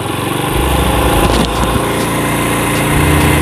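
A motorcycle engine idles steadily while its flooded carburetor's idle is adjusted, a loud, close, buzzing putter with a slight change in pitch and rhythm as the setting is tweaked.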